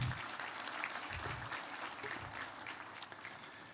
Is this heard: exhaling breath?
no